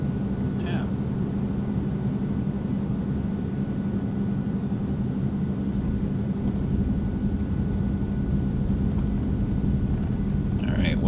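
An Eclipse 550 business jet in X-Plane 11 glides toward the runway at Chino with power pulled back, a steady low rumble and hum running unbroken throughout, with no talk.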